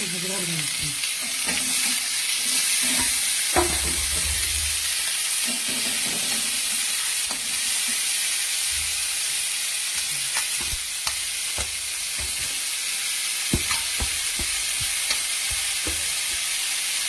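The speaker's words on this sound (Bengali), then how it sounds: "কড়াতে দিয়ে নিয়েছি পেঁয়াজ, টমেটো, ক্যাপসিকাম, কারি পাতা, ধনে পাতা দিয়ে অল্প তেলেতে এটা নিয়ে নিতে হবে।" Onion, tomato, capsicum and curry leaves stir-fry in a little oil in a kadai, giving a constant close sizzle broken by scraping stirs and occasional clatter.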